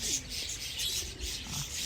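Breeder pigeons give soft, faint cooing calls in brief bursts against a hissy outdoor background, with no one talking.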